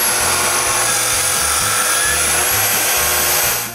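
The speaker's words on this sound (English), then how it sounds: "I do this on both sides and cut the tenon" A handsaw cutting a tenon into a large timber beam runs as a steady, loud rasping drone through the whole stretch, with faint regular stroke pulses beneath.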